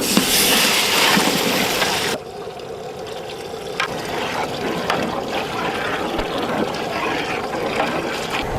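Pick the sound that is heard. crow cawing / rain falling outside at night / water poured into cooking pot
water poured into cooking pot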